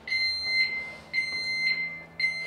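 An Auvray motorcycle disc lock alarm sounds three times, each burst a shrill, high electronic beep held for about half a second, close and loud in a quiet space.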